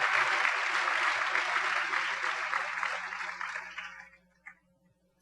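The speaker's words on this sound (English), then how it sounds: "they deserve another round of applause, a huge one," An audience at an event claps steadily for about four seconds, then the applause fades out, leaving a quiet room hum.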